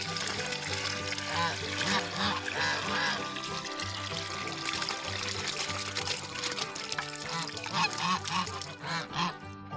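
Geese honk repeatedly amid a dense wash of splashing water in a pool stocked with fish, the calls overlapping in a busy, continuous scene with background noise.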